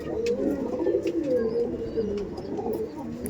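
Madrasi pigeons of tournament quality cooing in a loft, continuous overlapping low throaty coos from several birds close by.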